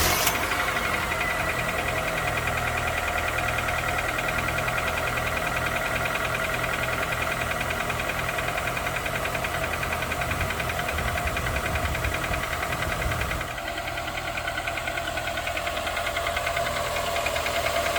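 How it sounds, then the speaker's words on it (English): A Honda Accord engine idles steadily at close range, a low continuous mechanical hum with a light ticking texture that drops slightly in level toward the end. "A perfectly running engine"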